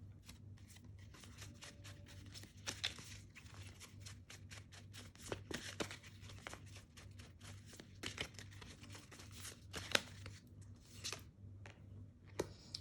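Tarot cards handled and shuffled at a reading table: a quiet, close run of soft slaps, flicks and rustles at an uneven pace over a low steady hum, with no talking.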